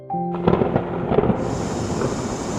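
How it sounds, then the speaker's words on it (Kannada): A storm sound effect for a children's story: a loud, sudden rush of blowing wind and rumbling, thunder-like crashes that swells in and holds steady, with a bright hiss rising near the end. "ಆಗ ಆಕಾಶದಲ್ಲಿ ಜೋರಾಗಿ ಬಿರುಗಾಳಿ ಬೀಸುತ್ತಾ ಬಂತು"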